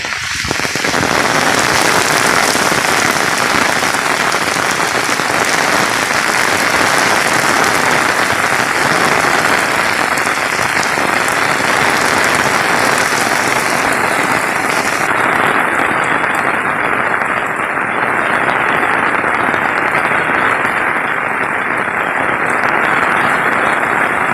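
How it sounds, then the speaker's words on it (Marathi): Heavy rain showers drench a Konkan village in Ratnagiri during the evening, a loud, unbroken wash of falling water that holds its strength throughout, with no one speaking. "आता जोरदार सरी यायला सुरुवात झाली."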